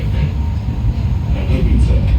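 Loud, steady rumble of a tram rolling along in Katowice, heard from inside the car, with continuous low rail and motor noise and faint voices underneath.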